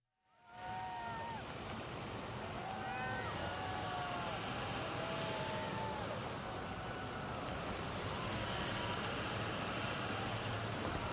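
The presidential limousine and motorcade roll down Pennsylvania Avenue toward the U.S. Capitol, a loud, steady roar of engines and road noise with sirens wailing and sweeping in pitch over it.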